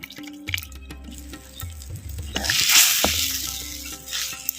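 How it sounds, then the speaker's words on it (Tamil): Small onion tamarind curry (kara kuzhambu) boiling in a pan, with close, irregular bubbling, plopping bursts and soft sizzling that swell and fade throughout. "நல்லா கொதிச்சு நல்லா வத்திருச்சு"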